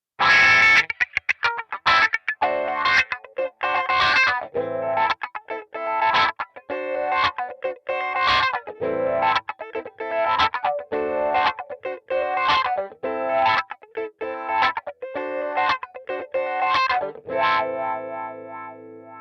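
A distorted electric guitar riff through a wah pedal with a sweeping, filtered effect, choppy and loud, played alone without any talking.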